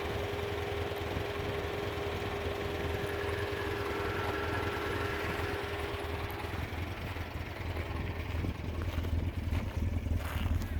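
A 1967 Alfa Romeo Giulia Super 1750 engine idles low and steady, burbling quietly and evenly, with no talking, just a soft continuous rumble throughout.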